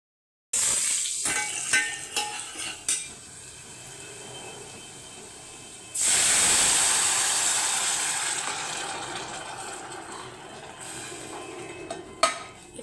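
Spices are tempered in hot oil for a home-cooked vegetable dish: scattered crackles and pops at first, then a sudden loud sizzle that surges in and slowly dies away, with a final clink near the end.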